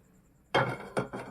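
A pan is set onto a gas stove, landing with a sharp metallic clank and then two more knocks as it settles. The thuds are close and loud after a near-silent start.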